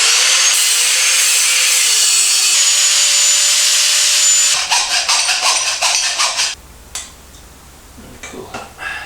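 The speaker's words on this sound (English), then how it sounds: "Concede defeat using an angle grinder." An angle grinder cuts metal during a drop-seat Kawasaki bobber motorcycle build in a home workshop, giving a loud continuous whine and rasp for about four seconds, then stopping and starting in shorter bursts with clatter between.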